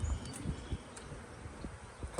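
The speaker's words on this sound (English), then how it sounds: "A couple bees are getting frustrated," Honey bees buzzing during an inspection of a newly installed nuc hive, a faint steady outdoor hum with a few louder passes close by, no talking.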